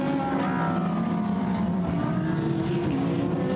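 GT race cars in a Blancpain GT Sports Club qualifying race at Paul Ricard circuit, a pack of engines droning loud and steady together with shifting harmonic whines, no voices over them.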